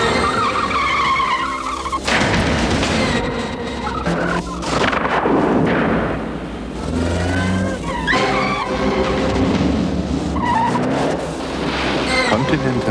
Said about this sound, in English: Under test conditions, a stunt driver puts Continental tyres through their paces.